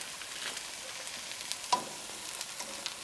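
Peas and carrots frying in a very hot pan for fried rice: a faint, steady sizzle with scattered crackles and a brief scrape or clink of a utensil, no talk.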